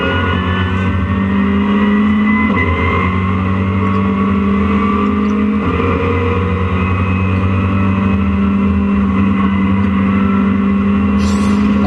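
Touring race cars at Donington, including a Clio and a Caterham, produce a loud, continuous engine roar with sustained harmonic whine and shifting pitch, close and dominant with no talk over it.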